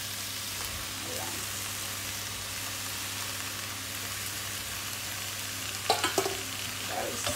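Tofu is stirred into a vegetarian curry frying in a pan, giving a steady close sizzle with soft scraping stirs throughout and a couple of sharper clatters near the end.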